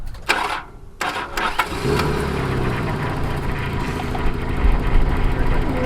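A Nissan S12 200SX engine cranks and catches after a few clicks, then settles into a steady idle close by.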